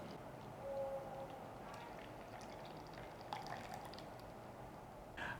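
Bitter gourd juice and green apple juice are poured into a large jug. The liquid gives a faint, quiet trickle and splash over a low background hum.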